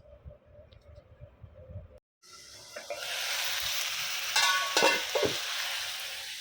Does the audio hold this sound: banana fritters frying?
yes